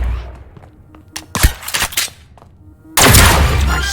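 Shotgun blasts from the video game Deceive Inc.: a cluster of sharp, punchy shots in the middle, then a louder blast near the end that trails off in a rough decay, over a low background rumble.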